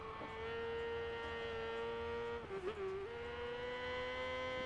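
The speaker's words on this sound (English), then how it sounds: "That beautiful ZX4RR singing its way down." A Kawasaki ZX4RR motorcycle in the racing game Ride 6 at Donington Park, its high-revving engine wailing at a steady pitch as it runs down the straight, with a brief dip and shift midway, heard alone.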